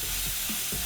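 Venison seasoned with dried spices sizzles steadily in a pan as it browns, a constant close hiss with a few faint stirring scrapes.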